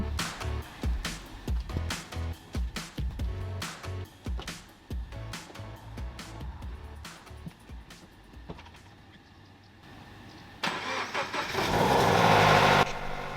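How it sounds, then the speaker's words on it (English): Loud cold start of a Toyota GT86 engine, a series of sharp rhythmic clatters and revs that fade to a quieter idle before a strong, rising roar swells near the end, heard alone without talk. "That cold start is absolutely super loud."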